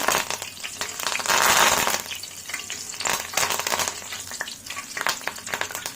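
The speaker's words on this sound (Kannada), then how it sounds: "ಕೊನೆಯಲ್ಲಿ ಕರಿಬೇವಿನ ಸೊಪ್ಪನ್ನು ಎಣ್ಣೆಲಿ ಹಾಕಿ ಕರ್ಕೊಳ್ಳೋಣ" Curry leaves frying in hot oil for khara sev, a loud close sizzle that swells into a hissing burst, then settles into steady crackling with light stirring clinks and no talk.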